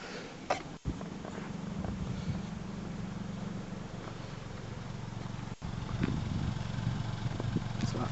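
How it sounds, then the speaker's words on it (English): A 2018 Hyundai Kona 1.0 T-GDi Premium SE idles steadily, its exhaust giving a low, even engine drone close by with no speech over it. "So that's the exhaust sound."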